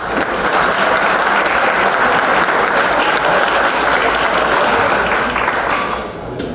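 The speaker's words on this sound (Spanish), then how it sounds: "para quien pido un fuerte aplauso." A conference audience at a labour-law event gives a loud, sustained round of applause for a law professor being introduced, dense, even clapping holding steady for several seconds before tapering slightly at the end.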